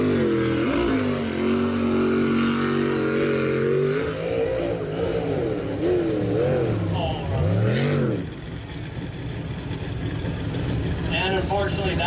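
A race boat powered by a big block injected Chevy engine roars loudly and continuously at a pro boat racing event in Lewiston, Idaho, under a commentator's talk.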